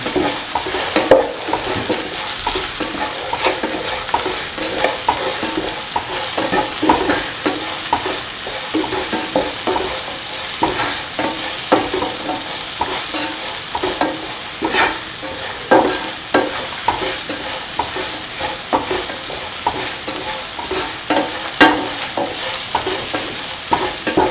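Beans for an instant pickle are stirred and sautéed in a pan, a loud continuous sizzle with frequent spatula scrapes and taps running on without pause and with no voices.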